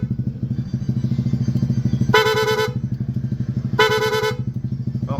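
Aftermarket PIA horn on a Honda Click V3 scooter fired in two loud, bright blasts over a steady idling engine, with a brief rapid-switch chirp near the end.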